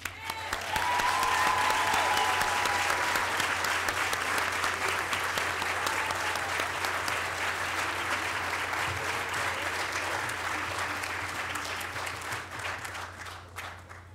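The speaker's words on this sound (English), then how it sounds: "Let's give him one more applause" Sustained applause from an audience at a city council reorganization meeting in Linden, steady and dense clapping that fills the room and fades slightly toward the end.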